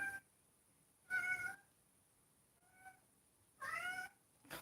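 A cat meows three times in a quiet indoor room, two longer, fuller calls and a short soft one between them, with a brief fourth sound at the end; no one speaks over them.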